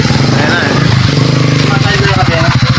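A Suzuki Shogun motorcycle engine runs steadily up close, loud and continuous, checked for noise when the clutch is squeezed, with someone talking over it.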